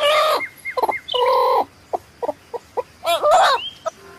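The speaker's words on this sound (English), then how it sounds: "H for hen." A hen clucks in short repeated bursts, with a few longer drawn-out calls mixed in, close and clear with no talking.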